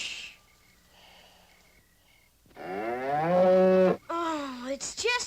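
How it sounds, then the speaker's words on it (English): A cow moos in a long, loud, nearby call with a rising then falling tone, followed by a shorter second moo, after a quiet stretch with faint breathing at a nighttime campout. "Oh, it's just your cow."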